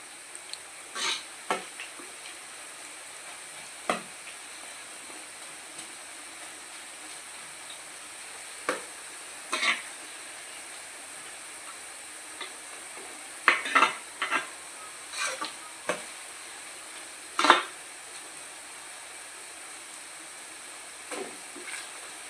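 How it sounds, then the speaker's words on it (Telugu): Boondi for motichoor laddu fries quietly in hot oil, a soft steady sizzle with scattered sharper crackles and occasional scraping stirs, no voices present. "ఇలా మొత్తం అంతా కొంచెం వేగే విధంగా చేసుకోండి పూసని."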